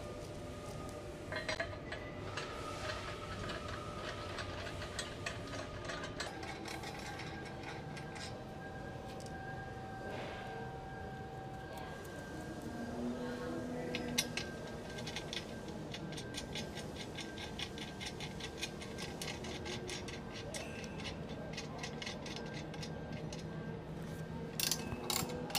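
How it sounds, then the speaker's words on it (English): Small metallic clicks and ratcheting turns come from a lock nut being threaded onto the locking bolt of a medium-duty precleaner, with faint scraping and tinkling of parts, close and fairly quiet, without talk. "Now we're going to install our locking bolts. First, putting on the lock nut."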